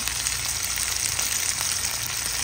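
Garlic, onion and ginger sauté in a pan for chicken tinola, giving a steady, close hiss and sizzle of frying with faint stirring, no talk.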